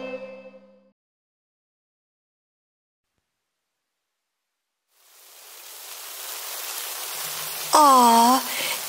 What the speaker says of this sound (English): Aw, it's raining.